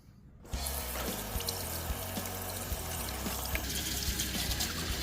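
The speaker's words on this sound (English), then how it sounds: "Let's get her into the sink and get her washed up." A cast iron skillet, an unmarked Wagner under restoration, is washed in a sink, with running tap water pouring and splashing steadily and fairly loudly after a brief quiet start, no talking.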